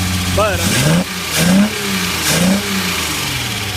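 A Datsun 240Z engine with SU carburetors and no balance tube rumbles up close, its pitch rising and falling in a few uneven blips around idle while someone talks over it.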